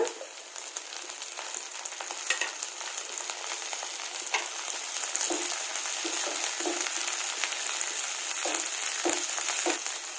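Onions and curry leaves fry in oil with crushed garlic, a continuous close crackling sizzle broken by light spatula scrapes and small pops, no voices.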